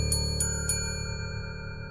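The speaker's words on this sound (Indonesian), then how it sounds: "Walaupun bel di lobi itu sudah dinyalakan beberapa kali oleh Novan." Three bright, short metallic dings of a hotel lobby service bell in a haunted-hotel horror story, struck in quick succession near the start, over a steady low background drone.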